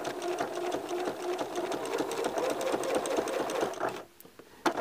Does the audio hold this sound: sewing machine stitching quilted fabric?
yes